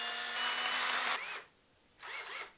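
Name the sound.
cordless drill running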